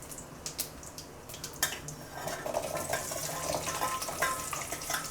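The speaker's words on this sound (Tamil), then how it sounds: "சின்ன வெங்காயத்தை போட்டு நல்லா வதக்கணுங்க." Shallots sizzle softly in a pan with occasional clinks and scraping of a utensil, a steady frying hiss throughout at low to moderate level.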